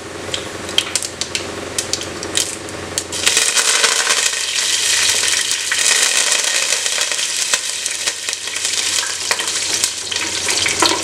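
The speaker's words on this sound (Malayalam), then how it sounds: "ഒരു ടീസ്പൂൺ ജീരകം ഇട്ട് കൊടുക്കാം. ബിഗ് ജീരകമാണ് കേട്ടോ." Big cumin seeds sizzle and crackle in hot oil in a pan while being stirred for Kerala-style cabbage rice; a quieter start gives way to a loud, steady frying hiss from about three seconds on.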